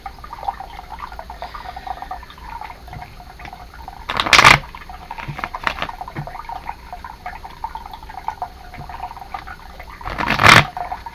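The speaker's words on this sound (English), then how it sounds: "As I'm shuffling the cards," Tarot cards are shuffled by hand, with two short crisp riffling bursts a few seconds apart standing out over quiet handling rustles and a soft background hum.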